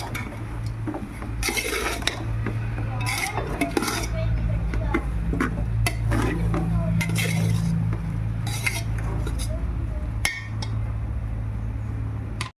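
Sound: mixing spinach fritter batter with roasted gram powder

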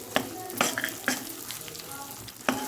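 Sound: frying edible gum with wheat flour in ghee

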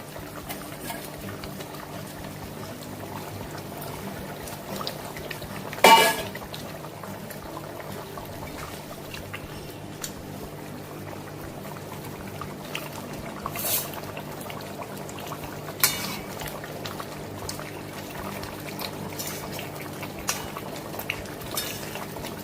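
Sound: pabda fish curry with potatoes simmering in pot

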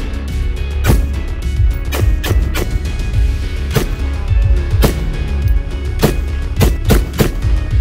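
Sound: 5.56 rifle round fired through strainer spoons

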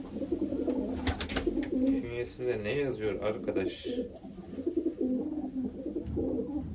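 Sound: pigeon cooing

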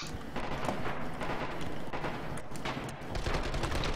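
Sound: machine gun firing in Red Orchestra 2 video game

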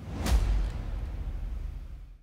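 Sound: orchestral impacts and bass drops

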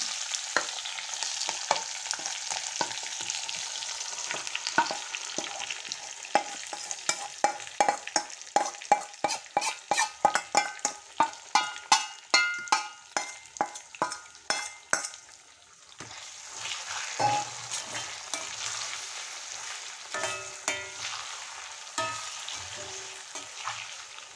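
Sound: frying chicken with curry leaves in a pan

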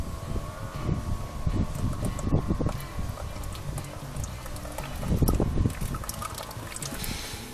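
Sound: gearbox oil draining from Toyota Echo/Yaris transmission

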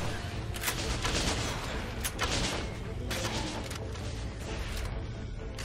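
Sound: gunfire from the video game Dungeon Defenders

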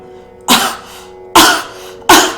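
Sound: cough

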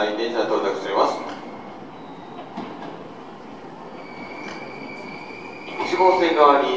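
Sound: Hankyu 7000 series train arriving at station

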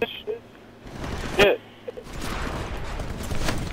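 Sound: gunfire in the video game Titanfall

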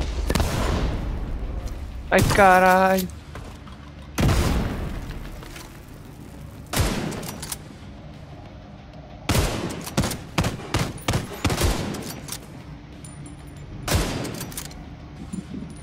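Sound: grenades exploding in a video game

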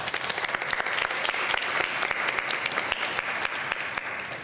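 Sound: audience applause thanking committee helpers

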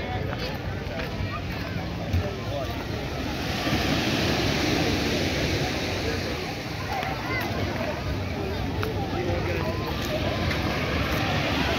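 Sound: waves at Pebbles Beach, Barbados

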